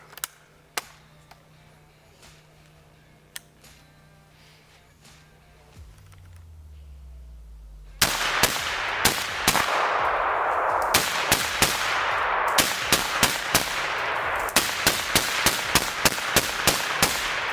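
A DSA Voyager FAL rifle with an 18-inch barrel and a Silencer Co. Saker 7.62 suppressor fires steel-cased Barnaul .308 outdoors, a rapid string of sharp muffled shots following a quieter stretch with scattered distant reports.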